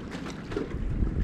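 Continuous low rumbling wash of ocean waves sloshing and thudding against the underside of an overwater pool deck in the Maldives at rising tide, with a broad noisy roar and occasional heavier surges.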